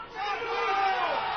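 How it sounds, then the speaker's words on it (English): A rowdy, drunk crowd gathers outside Fenway Park on opening day, a dense roar of overlapping shouts and chatter sustained throughout, loud and close. "Do you guys realize the crowd is ruining the show?"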